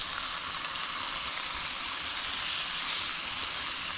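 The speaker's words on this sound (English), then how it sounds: "That's a nice sear. That is a nice sear." Red snapper fillet searing in a pan on a small campervan stove, a constant hissing sizzle with no breaks, fairly quiet and heard up close with no talking.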